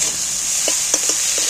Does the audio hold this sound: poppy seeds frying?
yes